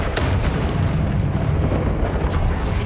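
Expelliarmus spell cast in the Hogwarts Legacy video game, a loud, sustained booming blast with a dense rumbling roar that holds steady without pause, no speech.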